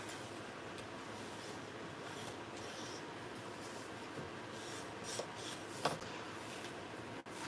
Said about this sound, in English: I'm going to grab my bone folder and I'm going to burnish.